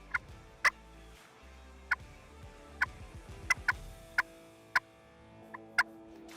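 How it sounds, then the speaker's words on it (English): A wild turkey gobbles repeatedly at a distance during a spring turkey hunt, sharp rattling calls spaced a second or so apart in a quiet outdoor setting. "we start hearing a turkey gobble"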